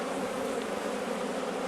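Honey bees drone in a dense, continuous buzz around a hive during a swarm catch, a steady close hum with no voices over it.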